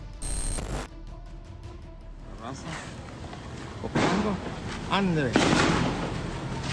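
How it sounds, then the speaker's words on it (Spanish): Scattered sharp cracks of gunfire, muffled and fairly distant, sounding among voices and background noise. "Esos son balazos, raza, ¿eh? Esos son balazos."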